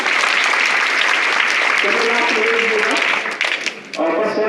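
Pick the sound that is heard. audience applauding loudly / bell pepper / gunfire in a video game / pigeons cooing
audience applauding loudly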